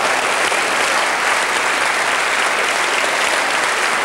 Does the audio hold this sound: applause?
yes